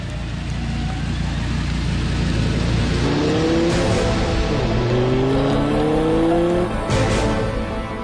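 An Audi R8 5.2 FSI Quattro engine heard from inside the cabin: a deep steady drone that rises into a revving, accelerating whine through the gears, loud and continuous.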